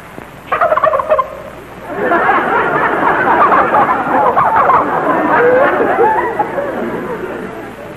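Turkeys gobbling in a basement, a burst of gobbles followed by a loud, sustained chorus of overlapping gobbling and chatter, with voices mixed in.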